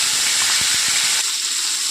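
A large onion dropped into hot oil with caramelized sugar, producing a loud, close, continuous hissing sizzle that settles slightly lower after the first second.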